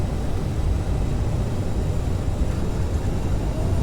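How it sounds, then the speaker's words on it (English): Jet engine roar from a CRJ-700 regional jet with thrust reversers engaged during the landing rollout in Microsoft Flight Simulator 2020, a loud, steady, broadband rush held unbroken throughout with no talk. "Engage reversers."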